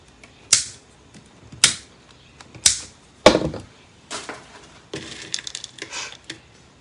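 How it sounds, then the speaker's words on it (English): Scissors snip through cream flower petals for a craft wreath, with four crisp close cuts spaced about a second apart, then softer rustling handling of the material, no talking. "Let me just cut these."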